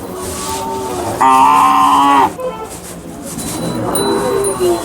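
A farm-work bullock at the Sangola cattle market in Maharashtra gives one loud, deep moo lasting about a second, close by, over a noisy outdoor background with faint voices.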